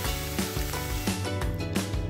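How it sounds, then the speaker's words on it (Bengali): Dalia and mung dal are stirred into lightly fried vegetables in a pan, a loud continuous sizzle punctuated by regular scraping strokes of the spoon, with no talking. "ডালিয়া আর মুগ ডালটা দিয়ে আমি ভালো করে নাড়াচাড়া করে নিচ্ছি"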